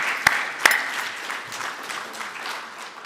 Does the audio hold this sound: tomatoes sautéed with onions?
no